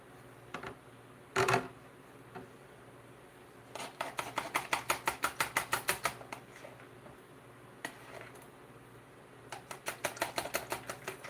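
Eggs are whisked in a bowl, producing quick rhythmic clicking bursts of the whisk against the sides, close and fairly faint, with pauses between runs.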